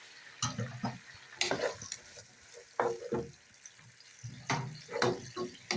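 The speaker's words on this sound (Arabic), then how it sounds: "وبعد ما البصله والثوم والفلفل اتشوح كده مع السجق" Sliced sausage, onion, garlic and spicy chili pepper sautéing in a pan, with intermittent sizzling bursts and scraping stirs coming in irregular clusters, close and moderately loud, with no talking.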